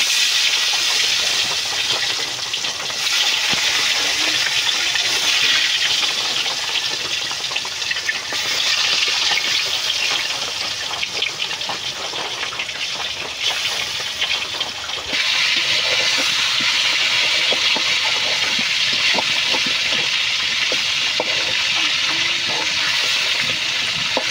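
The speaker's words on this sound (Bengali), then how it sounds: "তেল গরম হয়ে গেছে, এখন মাংসগুলো ভেজে নেব।" Chicken pieces fry in hot oil with a loud, continuous sizzling hiss that holds steady throughout, close up and with no talking.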